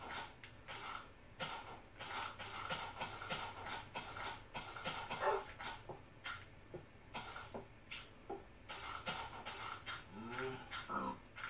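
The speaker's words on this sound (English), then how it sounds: "There's the teleporting dog up there" Dog in the Minecraft video game, a run of short panting and whimpering sounds repeating steadily over ambient game noise, moderately close and fairly quiet.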